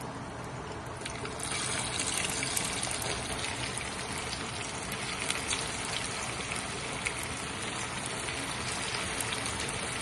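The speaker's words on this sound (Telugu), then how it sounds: "మనం ఇందులో చికెన్ వేసుకుందాం." Chicken pieces drop into hot oil in a noodle pan, setting off a steady, dense sizzle and crackle that swells after the first second and keeps going throughout, with no talking.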